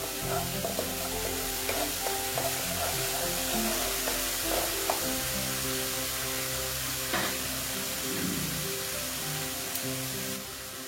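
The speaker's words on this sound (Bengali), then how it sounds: "দেখো এটা আমি ভালো মতন এটা ভেজে নিচ্ছি।" Spice paste with tomato sauce sizzles and crackles in hot oil for a pabda fish curry, with occasional stirring scrapes against the pan.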